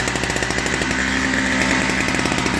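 A Toro Snow Commander 38602 snow blower engine runs loud and steady with a rough, buzzing drone as its carburetor clears, close by and with no talk.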